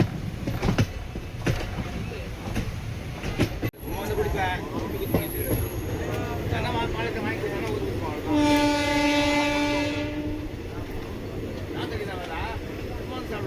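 Yelagiri Express, running from MGR Chennai Central to Jolarpettai, rolls along the track with a steady rumble and clatter, while a long horn-like tone sounds in the middle of the passage; people talk at times.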